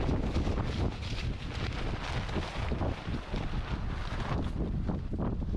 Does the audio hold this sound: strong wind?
yes